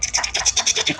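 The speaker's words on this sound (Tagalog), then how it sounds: "tapos yung tunog ng mga plastic" Close, crisp crinkling of plastic wrapping in quick repeated bursts, bright and rustly, with no voices.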